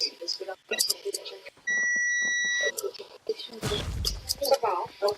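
A mobile phone gives a steady electronic beeping tone for about a second amid overlapping chatter from several people, with a burst of noise following shortly after.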